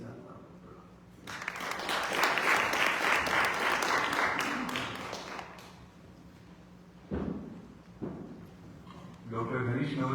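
An audience at the launch of the Hindi magazine 'Ananya' at the Indian Consulate in New York breaks into sustained, loud applause that builds, peaks and fades over several seconds, followed by a few scattered claps and a voice speaking.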